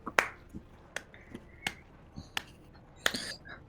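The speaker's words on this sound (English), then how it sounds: "Oh, I hate a slow clap from behind" A slow clap coming from behind: single sharp claps spaced roughly half a second apart, about eight in all, faint and somewhat distant in a quiet room.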